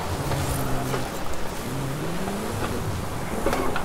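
A car in Forza Horizon 5 drifts at full throttle, its engine holding a sustained high rev with tonal bands rising and falling as it slides, loud and close with no voices over it.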